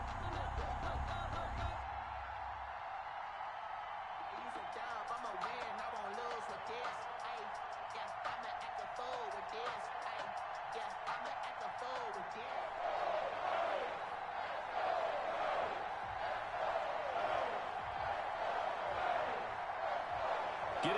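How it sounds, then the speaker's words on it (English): Steady roar of a stadium crowd in an EA Sports NFL game before a Dallas Cowboys versus New York Giants matchup, a loud continuous wash running under an announcer talking throughout. "This crowd is ready as their guys get set to match up between the Dallas Cowboys and the New York Giants."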